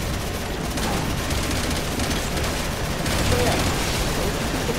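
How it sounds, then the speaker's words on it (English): Weapons fire at incoming missiles in Resident Evil 6's Jake and Sherry chapter: a dense, unbroken barrage of loud shots and booms, with voices faintly mixed in. "You've got to shoot the missiles down."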